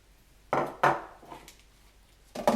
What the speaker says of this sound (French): Je remets le couvercle